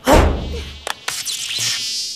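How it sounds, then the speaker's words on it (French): Cartoon robot spy fly buzzing in a French animated comedy: a loud insect whine that swells over the first half second, then drops to a thinner, wavering buzz broken by a few sharp clicks. "À la niche, ma Spyfly, rapporte tes preuves à tonton Dewey."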